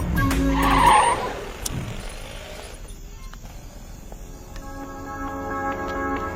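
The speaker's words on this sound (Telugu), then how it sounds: "బండిని పక్క ఆపుకోరా" A vehicle in a movie scene skids to a halt with a short tire squeal and engine rumble, and quieter idling and ambient noise follow.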